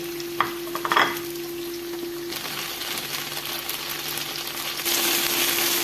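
Chicken malai tikka pieces sizzle steadily in a pan as they are turned, with a few clinks and scrapes early on and the frying growing louder near the end; a steady hum runs underneath.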